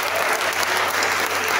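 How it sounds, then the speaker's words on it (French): A congregation applauds in acclamation to the Lord during a worship gathering, a brief, dense and steady burst of many hands clapping with a low steady hum beneath. "des acclamations au Seigneur."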